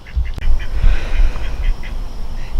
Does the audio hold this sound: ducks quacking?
yes